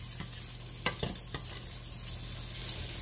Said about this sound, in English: Let that one cook a little, let it fry up a little bit more.